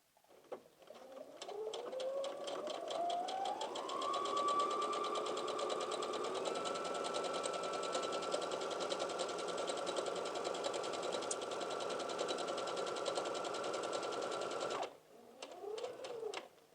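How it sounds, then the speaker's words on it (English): A sewing machine runs a seam up an A-line skirt from the bottom edge, its motor whining up to speed and then humming steadily with rapid needle ticking for about thirteen seconds before stopping, then briefly starting again, close up. "So let's go to the machine. I'm starting at the bottom edge of my skirt."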